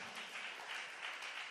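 A church congregation bursts into hearty applause during a sermon, a dense, even wash of many hands clapping together, sustained and moderately loud with no voices over it.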